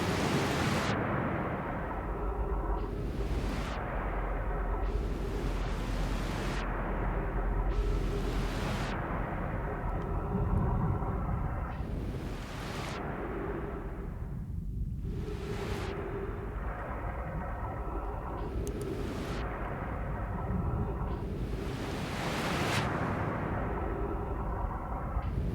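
A storm in the Outer Wilds video game gives a continuous roaring rumble. Loud rushing gusts swell and fade every couple of seconds, and no speech is heard.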